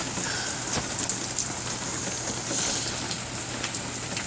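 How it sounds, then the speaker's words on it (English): Rain falls steadily and bounces off an outdoor table, a dense continuous patter with scattered sharper drop hits, close and moderately loud, with a faint bird call in the background and no talk. "You see that rain bouncing off the table? I think it's raining."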